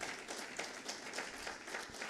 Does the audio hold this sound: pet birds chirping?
no